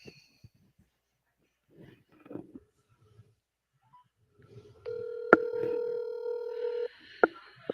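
A telephone is dialed: faint scattered clicks first, then a loud, steady dial tone for about two seconds, broken by a sharp keypress beep, followed by another short tone.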